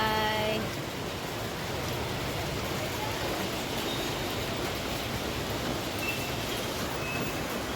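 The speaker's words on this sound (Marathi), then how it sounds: "आणि आता आणि पाऊस पडतोय खूप नाही" Steady rain falls throughout, a dense even hiss with no break, fairly close and constant in level.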